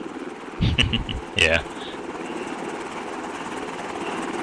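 A helicopter in the Arma video game comes in on approach, a steady rotor drone running throughout beneath two short bursts of radio chatter and a brief spoken reply.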